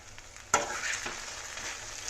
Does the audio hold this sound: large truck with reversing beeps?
no